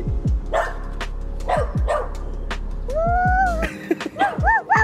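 A 1.5-year-old girl imitates a dog with a string of short, yappy woof sounds, then higher rising and falling squeals, close up and fairly loud.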